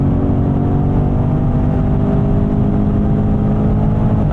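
A BMW M850 accelerating steadily on the Autobahn, a continuous droning engine and road roar heard from inside the car, fairly loud and unbroken with no voices.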